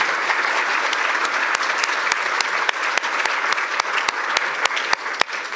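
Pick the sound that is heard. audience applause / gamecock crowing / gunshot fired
audience applause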